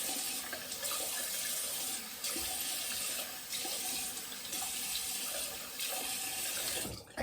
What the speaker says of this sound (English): And then rinse with cold water.